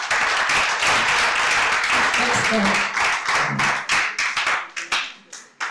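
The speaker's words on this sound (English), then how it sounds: "Can we give them a clap?" Audience clapping after participants at a medical summit session, a full round of applause that thins into scattered individual claps near the end, with a voice speaking briefly over it.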